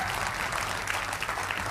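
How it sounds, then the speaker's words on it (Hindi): A studio audience breaks into steady, dense applause for an arriving political guest on a Hindi TV debate show, loud and continuous throughout. "देखिए ये जो ताली इनके लिए बजती है।"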